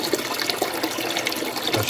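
Water pours steadily into a bucket being filled for electrolysis cleaning of an old padlock, a close, continuous splashing gush with no talk.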